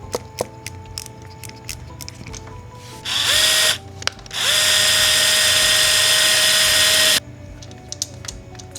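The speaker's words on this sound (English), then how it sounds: "So to remove this bolt, it's a 5 millimeter hex." A power tool spins out a 5 mm hex starter bolt on a Yamaha R7 motorcycle, two loud, close whining bursts, a brief one then a longer sustained run, amid light clicks and handling noise.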